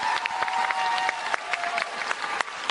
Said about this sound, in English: Everyone, let's give a final round of applause for our amazing guests.